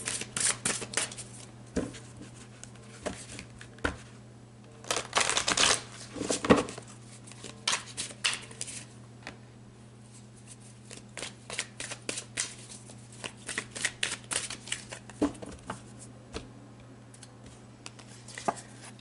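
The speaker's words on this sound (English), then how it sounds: "So let's pull some more cards" Tarot cards shuffled and riffled by hand in a quiet room, a long run of crisp flapping bursts and soft slides that come in uneven clusters, close and moderately loud, with a steady low hum beneath and no voices.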